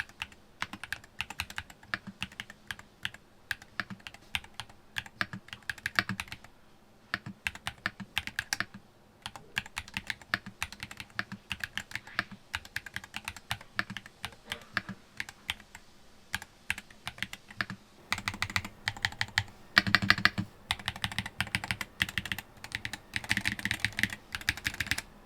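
Continuous fast typing on a Mchose Ace68 magnetic mechanical keyboard, crisp clacking keystrokes close up, with a few brief pauses and no talking.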